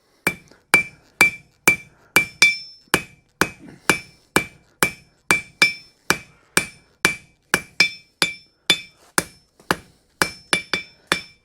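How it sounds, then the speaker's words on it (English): Regular, ringing metallic strikes of a hammer on an anvil, about two per second, loud and close with no talking. "When I bounce the hammer here"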